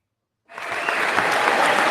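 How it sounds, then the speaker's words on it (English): Audience clapping during a live show bursts in after a moment of silence and swells into steady, loud applause from a crowd that keeps going to the end. "Clap it up for that"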